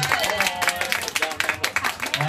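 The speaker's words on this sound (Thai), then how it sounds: "ขอเสียงปรบมือกำลังใจทุกท่านเลยครับ" An audience at a Slim Concept event in Central Ladprao breaks into scattered clapping, a quick patter of hands heard alongside a talking voice.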